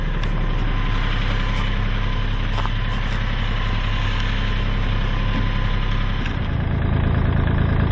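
A Kubota tractor engine idles steadily and close by, a dense, even rumble with a slight change in tone near the end as the hydraulics are worked.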